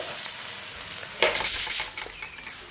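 Greens sauté in a pan, quiet at first and then bursting into a loud, crackling sizzle that pulses for about a second before easing back down.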